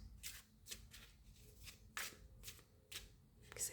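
Tarot cards being shuffled close by during a reading, a series of quiet crisp riffling bursts spaced about half a second apart, soft and unaccompanied by speech.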